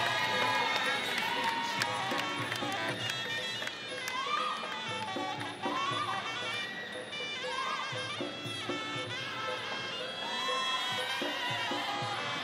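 A crowd cheers and roars at a Muay Thai fight in Rajadamnern Stadium during an RWS super lightweight tournament bout. The noise swells in waves beneath steady commentator talk.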